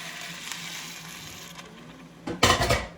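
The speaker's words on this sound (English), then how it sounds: "Stir it up again." Curried goat being stirred in a pot on a stove set to high, Jamaican-style: steady low scraping and stirring, then a louder burst of clanking and scraping near the end, close and with no talk.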